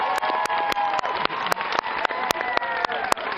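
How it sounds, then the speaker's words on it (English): Applause from an audience, with brisk claps overlapping into a steady patter throughout the short stretch. "Can we give it a round of applause, please?"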